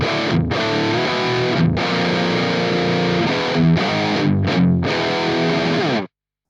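High-gain distorted electric guitar shaped by a NanOS EQ with the top end rolled off to tame fizz, playing loud sustained chords in several phrases with brief gaps before stopping abruptly.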